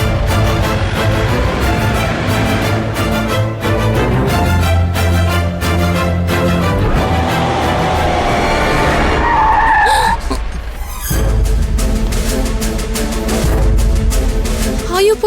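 A car pulls away hard with a long screech of skidding tyres over a loud revving engine, sustained and close, a brief drop near the end before the engine noise resumes.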